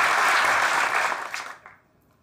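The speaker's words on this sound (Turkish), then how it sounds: "Sıradaki skecimizi alkışlarınızla Arif sunuyor." Audience applause at a comedy sketch show, a steady dense wash of clapping that swells for about a second and a half, then thins out and fades into near silence.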